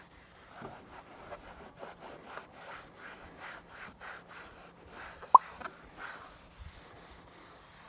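Applicator pad rubbing trim coating onto gray car trim, soft quiet rhythmic rubbing strokes, close up, with one sharp click midway.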